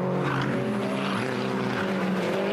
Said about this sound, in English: You can hear the inside front wheel spinning up. And you can hear the tyres, the Dunlop control tyre, scrabbling for grip across the turn.